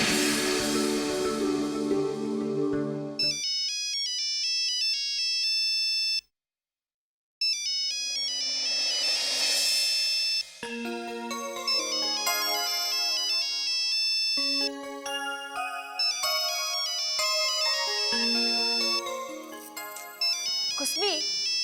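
A bright electronic phone ringtone plays a looping melody, close and loud, with one short silent pause before the tune resumes.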